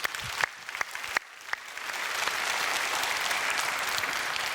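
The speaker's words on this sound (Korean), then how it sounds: "특별히 장로님들이 전도를 많이 맺도록 한 박수 합시다." Church congregation bursts into applause for elders after a sermon on evangelism, beginning with a few scattered claps and swelling into steady, dense clapping filling the hall.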